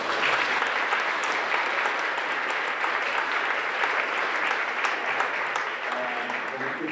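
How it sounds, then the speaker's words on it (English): A crowd applauds steadily after a Chinese calligraphy performance on stage, a thick, even wash of clapping that holds at full strength throughout with no break. "Let's give another round of applause and cheers for Mr."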